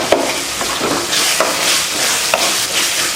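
Bottle gourd, dried fish and tomato sautéing in a pan for a curry, a steady sizzle broken by a few soft scraping stirs, close and fairly loud with no voices.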